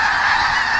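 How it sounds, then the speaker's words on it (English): Thousands of geese at a wildlife refuge honk together as they take off, a dense, loud and continuous chorus of overlapping calls with no gaps. "thousands of geese blast off into the sky"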